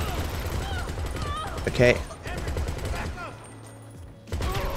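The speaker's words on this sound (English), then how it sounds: "Please stop shooting me." Gunfire in GTA 5 under a randomized chaos mod, several bursts of shots with a sharp cluster near the middle, mixed with speech throughout.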